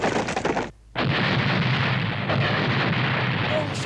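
Cannon blast in an animated Zorro episode: a loud, dense roar with a sharp cutoff, a brief gap, then a second heavy boom that rolls on in a sustained rumble, with no talking.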